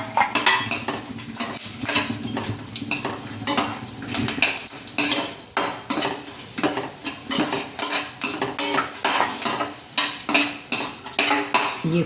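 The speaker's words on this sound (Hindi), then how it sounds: "जो हमने ये काजू और बादाम काट के रखे थे सबसे पहले इसमें डाल करके थोड़ा सा इसे फ्राई" Chopped cashews and almonds frying in desi ghee in a kadhai: a spatula scrapes and clinks against the metal in a busy, continuous stirring rhythm over a faint sizzle, close and loud, with no speech.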